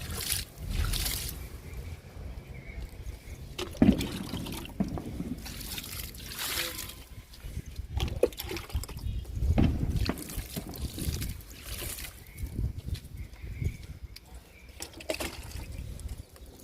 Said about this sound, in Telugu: గ్రో బ్యాగ్స్కి ఇస్తున్నా వాటర్.